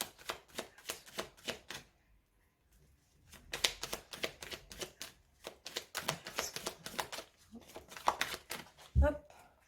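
A deck of oracle cards is cut and handled close up, with quiet papery riffles and flutters in short bursts separated by pauses, ending in a sharp tap.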